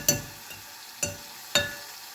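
Onion, curry leaves, chili and garlic hit hot tempering oil, giving three sharp, quiet crackling spatters spaced about half a second apart, with no talking.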